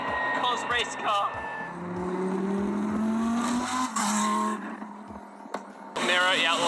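A Lamborghini Super Trofeo race car drives hard, its engine note climbing steadily and tires squealing in short bursts, with someone talking over much of it.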